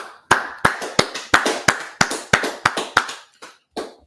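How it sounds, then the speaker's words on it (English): About a dozen sharp, evenly spaced claps ring out close and loud at a street gathering in Washington DC, slowing and thinning toward the end. "All right, let's clap it up."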